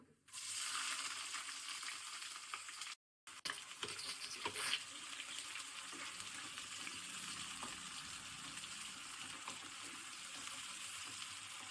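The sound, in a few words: chopped onion frying in oil with spices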